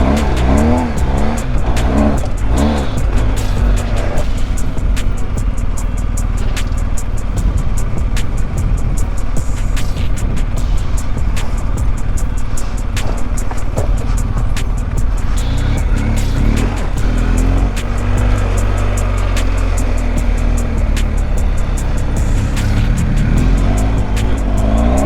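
A 2022 BMW GS Adventure motorcycle on Michelin Anakee Wild tires rides on a mountain trail, its engine droning loud and steady throughout with continuous wind and road rumble.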